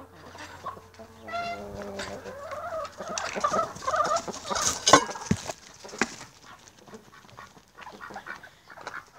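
Hens cluck and squawk close by in a busy burst that rises, peaks, then settles into softer scattered clucks.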